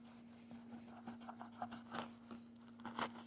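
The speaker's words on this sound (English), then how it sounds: "So we're going to come in here, we're going to cut a piece off." A knife blade, the Springfield Armory 2020 Hunter made with TOPS Knives, cutting through tough layered canvas and rubber material: close, quiet scraping and crunchy rasps in short strokes over a steady electrical hum.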